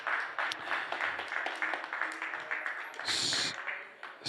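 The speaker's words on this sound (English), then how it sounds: "Round of applause for David, ladies and gentlemen." Scattered audience clapping at a science presentation event as a young presenter is called to the stage, moderate and uneven, mixed with crowd murmur and a burst of brighter noise near the end.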